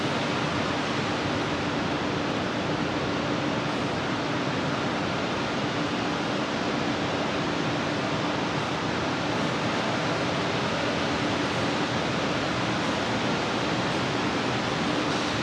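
Niagara River rushing near the falls, a dense, constant roar of flowing water that stays steady and fairly loud with no voices.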